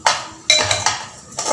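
A spoon scrapes and clanks against a metal pot while fried dhal is stirred, three sharp, close knocks with short rattling tails, no voices.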